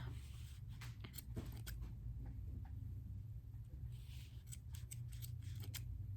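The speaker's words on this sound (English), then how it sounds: "you can cut the ends up at the top where the little loop is" Repeated sharp snips of scissors cutting yarn, a few quick clusters of cuts over a low steady background hum, fairly quiet.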